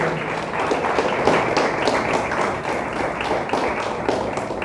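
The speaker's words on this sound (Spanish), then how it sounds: "Denle un fuerte aplauso a Dios." A church congregation applauds with dense, steady clapping that fills the room for several seconds, loud and continuous with scattered sharper claps.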